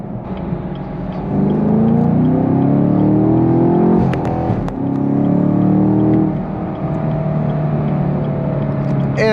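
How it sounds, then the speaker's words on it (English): A manual 2021 Chevrolet Camaro in sport mode pulls hard from inside the cabin, engine note climbing steeply through the revs, a quick gear change with a brief dip, then rising again loud and close. "So let's send this off in sport mode"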